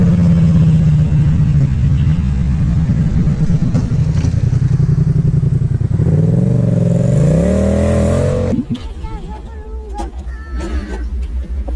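A motorcycle engine drones and shifts pitch as the bike runs wide on a road, then an abrupt clattering impact against a guardrail cuts in near the end, followed by scraping and rattling debris.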